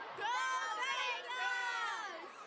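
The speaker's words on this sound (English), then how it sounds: "The crack of the bat and the crowd cheers." A large crowd, mostly children, cheers loudly at a packed minor-league baseball stadium, a sustained bright roar of many high voices rising and falling, close and full.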